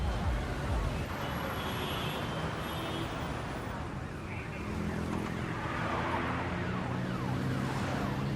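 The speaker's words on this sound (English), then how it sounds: "they work long nights, surrounded by traffic, noise, and flashing lights" Busy city streets at night carry a dense, continuous roar of passing traffic, with a siren wailing faintly through it and a steady engine rumble throughout.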